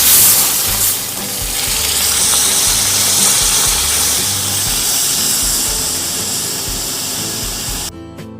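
Dal fried in a hot pan in an Indian village kitchen, a loud, close, steady sizzle and hiss that holds for several seconds before cutting off abruptly near the end, no voices.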